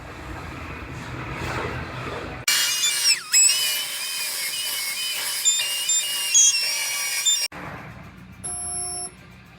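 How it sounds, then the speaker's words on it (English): A car floor panel welded in a body shop: a loud, steady crackling buzz that starts abruptly, runs for about five seconds with brief flickers, and then cuts off to quiet shop ambience. "I got this floor all fit up, ready to weld. So I'm gonna go ahead and I'm gonna get this one zapped in."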